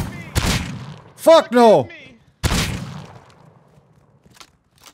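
A new shotgun fires in the Rust video game, with two loud, sharp blasts about two seconds apart and a shouted voice between them.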